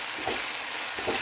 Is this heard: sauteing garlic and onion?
yes